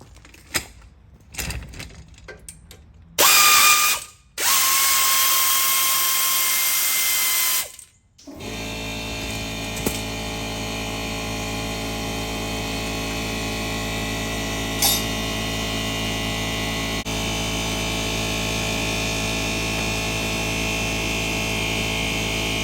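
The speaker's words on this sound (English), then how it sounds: "Both of these bolts, they got to come off and then this caliper should come right off." Ratcheting clicks and metallic creaks from a wrench working the caliper bolts free during a car brake job, loud and close, followed by a long steady mechanical hum with faint scattered clicks.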